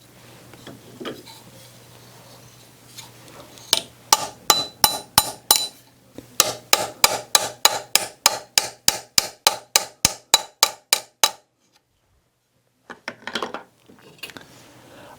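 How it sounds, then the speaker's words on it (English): A planishing hammer strikes folded sheet metal to tighten a line fold, a fast run of about two dozen sharp, ringing metallic blows in two bursts, then a short pause and a few final taps, close up with no talk. "I'm going to take my planishing hammer and tighten up this one end"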